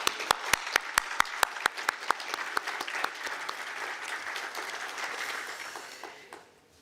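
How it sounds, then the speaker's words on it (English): Graduation ceremony audience applauding in a large hall, a burst of sharp individual claps at first settling into dense sustained clapping that fades out near the end. "I would like you to give a big, big round of applause to all of your family and friends back home who are not able to be here today."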